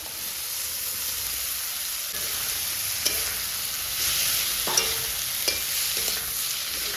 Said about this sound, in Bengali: এবার আমি সেদ্ধ আলুগুলো দিয়ে দেবো